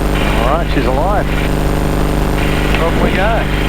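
Radial engine of a Yak-52 aircraft idling just after start-up, a steady loud rumbling drone throughout, with people talking over it on an intercom.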